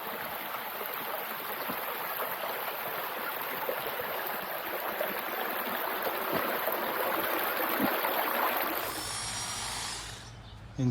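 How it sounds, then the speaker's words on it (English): Waterfall and stream on Dartmoor roar as a steady, loud broadband rush of falling water, close by, continuing unbroken for most of the time before fading near the end. "back at the waterfall"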